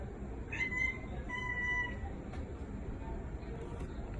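A pet cat named Beyonce gives two short meows early on, faint and fairly close against a steady low background rumble, with nothing else prominent afterward.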